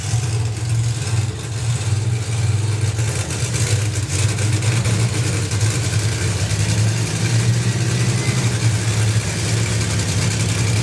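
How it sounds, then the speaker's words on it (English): Loud, continuous roar of two funny car drag racing engines idling and rumbling together at a drag strip, a deep throbbing drone that holds steady throughout. "So both cars, engines running."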